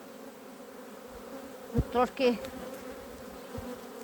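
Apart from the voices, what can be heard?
bees buzzing around the hives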